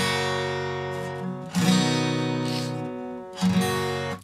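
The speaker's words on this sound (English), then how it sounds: "you simplify it down to single strums and you go like this" Acoustic guitar chords played as single downstrokes: three separate strums, each ringing out and slowly decaying before the next, with no voice present.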